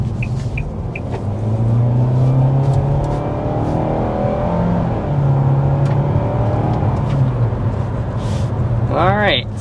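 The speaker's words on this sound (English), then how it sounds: "we will be starting out with a hard acceleration" Hard acceleration in a 2024 Nissan Altima SR, heard from inside the car as a steady, loud engine and road rumble that builds and holds, with a rising whine near the end.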